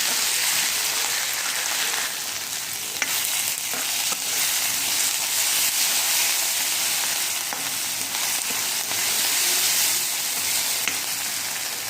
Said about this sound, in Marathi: तर कांदा लाल झालेला आहे त्यामध्ये आपल्याला टॅमॅटोसुद्धा घालायचा आहे तर सुद्धा चांगला शिजवून घ्यायचा आहे